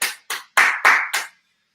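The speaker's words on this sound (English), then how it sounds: "Let's give ourselves a big round of applause" A workout class claps together at the end of a session, five short bursts of applause with brief gaps, close and fairly loud, with no voices.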